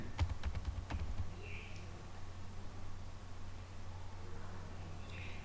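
Soft keystrokes on a computer keyboard as a plugin name is typed into a WordPress search box, a short quick cluster of light clicks at the start, then faint background hiss.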